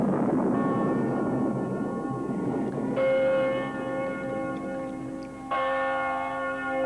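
Church bells ring out in overlapping peals, with fresh strikes landing every few seconds and long ringing tones hanging between them, fairly distant and resonant.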